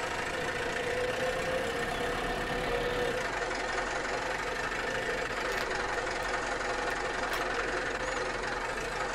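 A roughly 79-horsepower tractor with a hay tedder hitched behind it runs at a steady idle, giving a continuous low mechanical rumble with a faint knocking texture, moderately close and unchanging, with no talking.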